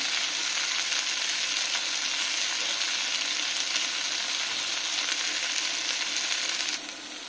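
Shrimp fry steadily in a pan as greens are cooked with them, a loud, even, continuous sizzle that eases slightly at the very end, with no talking.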